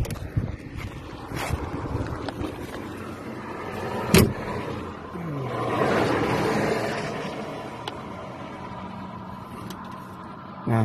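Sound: cars driving past on a road

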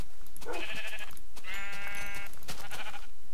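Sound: sheep bleating in Minecraft video game

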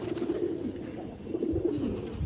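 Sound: pet pigeon cooing

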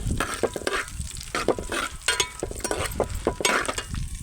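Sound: frying cumin and coriander seeds with dried chillies in a pan

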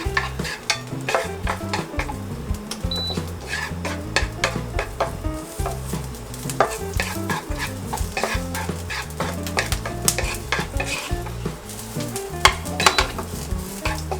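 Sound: garlic frying in hot oil

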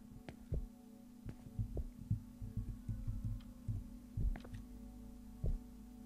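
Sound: heartbeat sound effect in video game The Convenience Store

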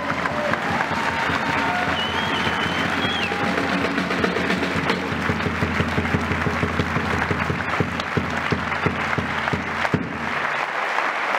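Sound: applause

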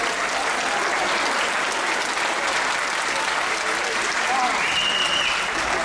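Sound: applause for a piano student

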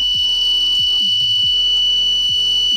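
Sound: buzzer of a transmission line fault detector sounding

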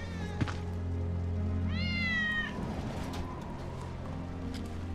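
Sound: Wedge's cat meowing in video game Final Fantasy VII Remake

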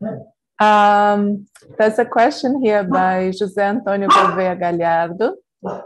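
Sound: dog barking

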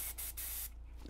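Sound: aerosol spray can spraying motorbike carburettor jet

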